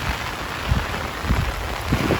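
Heavy rain pours over Madduvil village in Jaffna during a dark midday storm, a steady dense hiss with a few soft low thumps, with no voices.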